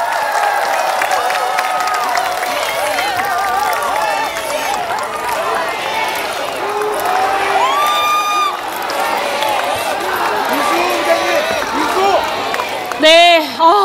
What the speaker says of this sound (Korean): 큰 박수로 한번 주시기 바랍니다.